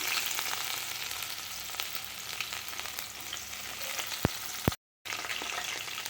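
Chana dal and freshly chopped onion frying in a pan for cabbage poriyal, a steady close sizzle with occasional faint pops and stirring clicks, no voices.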